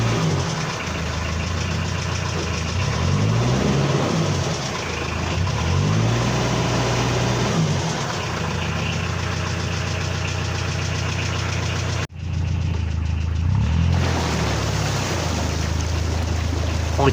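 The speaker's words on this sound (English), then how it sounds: "I revved the engine with the propping gauge both forward and reversed while checking for any leaks." A narrowboat's engine runs loud and close inside the boat, with a steady diesel knock that swells as it is revved in forward and reverse. The engine drops briefly, then climbs again.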